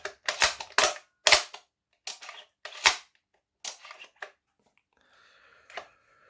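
Several sharp snapping shots from a Worker Prophecy toy dart blaster with a pump grip, fired in quick bursts with short pauses, close and loud, followed by faint rustling handling noise.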